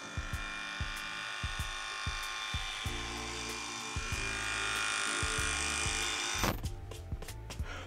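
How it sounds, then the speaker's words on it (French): An electric head shaver buzzing steadily while shaving a scalp, a close continuous motor whine with rhythmic ticks and shifts in pitch as it moves over the head, no talk. "je me suis rasé le crâne avec cette tête"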